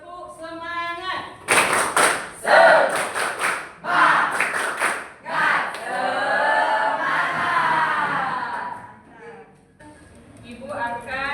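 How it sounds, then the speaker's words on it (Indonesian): A classroom group of students performs the Indonesian tepuk semangat spirit clap during an ice-breaking activity, with bursts of patterned clapping mixed with loud shouted chanting and voices. "Tepuk semangat."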